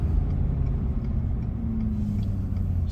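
A 2022 Ford F350 pickup towing a trailer and downshifting into second gear, a low steady engine drone and rumble heard from inside the cab with faint ticking above it.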